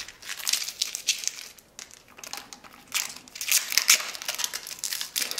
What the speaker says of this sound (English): They have this plastic wrapping on them.